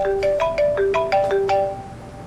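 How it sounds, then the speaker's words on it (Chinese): A phone ringtone for an incoming call, a bright melodic electronic tune of quick repeating notes, loud and close, playing alone. "阿姨，你稍等，我接个工作电话。"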